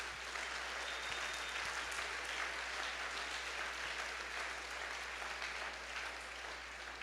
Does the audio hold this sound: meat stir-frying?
no